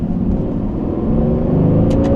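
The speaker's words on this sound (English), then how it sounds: "See how high it revs out." Aston Martin engine revving high in first gear with paddle shifters, a loud, close, steady engine drone climbing slightly in pitch, no talk.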